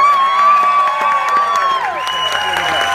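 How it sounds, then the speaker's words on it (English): A crowd at a roast-style comedy show claps and cheers loudly, with whoops and shouting voices layered over sustained applause that stays strong from start to finish. "Give him a round of applause."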